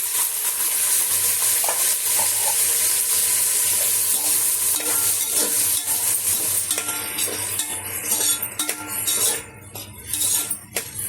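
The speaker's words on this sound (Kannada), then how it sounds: "ಚೆನ್ನಾಗಿ ಉಟ್ಕೊಳ್ಳೋಣ ಅವರೆಬೇಳೆನ ಎಣ್ಣೆಯಲ್ಲಿ." Avarekalu beans fry and get stirred in oil with onions in a pan, giving a steady sizzle with scraping spoon strokes and light metal clinks, close up and without talk.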